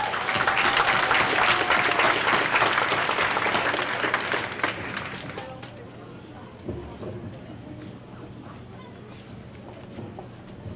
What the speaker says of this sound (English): Let's applaud them once again.